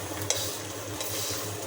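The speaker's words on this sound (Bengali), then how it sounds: "এই যে এটাও তেল ছাড়া ভাজবেন, দেখবেন শুটকির অরিজিনাল গ্রানটা চলে আসবে" Dried chepa shutki fish dry-fried in a hot pan without oil, a soft continuous sizzle with light scraping stirs and a few small clicks of utensil against pan.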